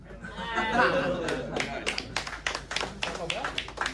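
A small open-mic comedy audience in a tavern claps in scattered bursts amid laughter and chatter, the sharp hand claps growing more distinct toward the end.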